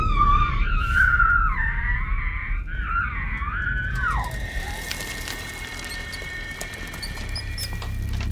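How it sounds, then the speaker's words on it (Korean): A mother screams upstairs in a horror film, a long, wavering, high-pitched cry lasting about four seconds that bends downward and cuts off, leaving a low rumbling hush with faint ticks. "위층에서 들려오는 엄마의 비명소리."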